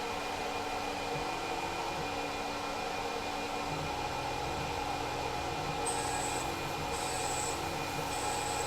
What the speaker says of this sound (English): Doing a peck cycle on this end mill to try to reduce the amount of buildup of the rat nest on the cutter